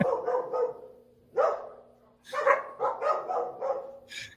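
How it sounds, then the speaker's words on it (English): Dogs bark repeatedly at a team drawing event, several sharp yips and woofs in uneven bursts at moderate distance, alternating with brief pauses. "Hey, who let the dogs out?"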